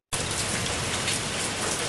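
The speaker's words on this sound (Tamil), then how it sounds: "அடே எப்பா, கொஞ்ச நேரம் மழை பெய்யறதுக்குள்ள எப்படி தண்ணி ஓடுது பாரு." Heavy rain pours steadily in a rural village setting, a loud, dense, continuous hiss that starts abruptly and stays constant, with no voices over it.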